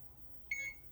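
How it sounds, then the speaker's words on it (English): An EcoFlow Delta Pro 3 portable power station gives a single short electronic beep, clear and high-pitched, against a quiet background. "so you heard that beep"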